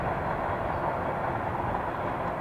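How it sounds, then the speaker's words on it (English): A Norfolk Southern military train rolls past on the tracks, a steady, loud, broadband rumble of railcars with no breaks or talk over it. "A Norfolk Southern military train."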